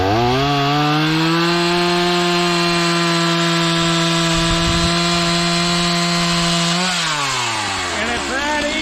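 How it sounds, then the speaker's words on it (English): A freshly sharpened chainsaw runs loud and steady through wood for about seven seconds, its engine note holding constant before dropping as the cut ends. "So we'll see how well my chainsaw cuts."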